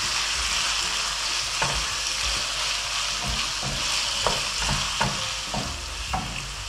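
Food sizzles steadily in a pan for stuffed zucchini boats, with several distinct scraping stirs cutting through the constant close frying hiss.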